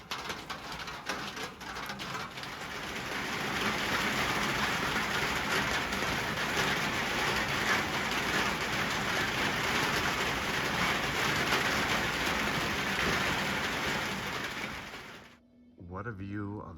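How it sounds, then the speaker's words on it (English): Steady rain mixed with small bits of hail patters on an off-grid log cabin, a dense even hiss that holds for about fifteen seconds before cutting off abruptly. "Sounds like we're getting little bits of hail."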